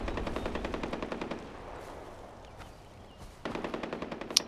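Rapid machine gun fire in the video game Far Cry 4, two loud bursts of fast repeating shots separated by a quiet gap, with a brief sharp ping near the end.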